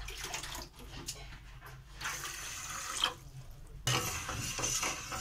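Water is poured into a pan holding sugar and cracked cardamom to make syrup for langcha sweets, a running, splashing stream with a few metallic knocks from the pan, close by, with no talk.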